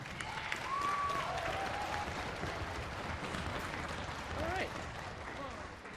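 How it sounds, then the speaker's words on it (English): Audience applause at a school orchestra fall concert, a broad wash of clapping from a crowd in a hall, with voices and cheers heard over it. "I want all the kids to give a huge round of applause to you guys for the effort that you put into this."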